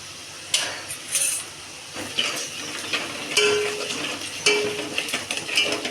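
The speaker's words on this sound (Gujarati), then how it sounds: "સરસ મજાનો તડકો તૈયાર થયો" Chili, coriander-cumin powder and turmeric crackle and sizzle in hot oil for a tadka, a steady close frying hiss broken by sharp pops and a few stirring clinks of a spoon against the pan, with no voices.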